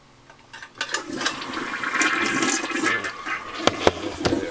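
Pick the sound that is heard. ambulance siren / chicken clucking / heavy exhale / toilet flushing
toilet flushing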